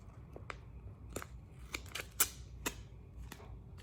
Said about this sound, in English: I will cut this part off, the superfluous transfer tape off.